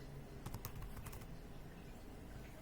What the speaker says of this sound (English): you can start to type my name